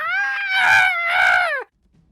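A voice imitates anguished screams of enemies burning to death in a tabletop fantasy game, one long wavering cry rising and sagging for about a second and a half, loud and close, then cutting off abruptly into silence.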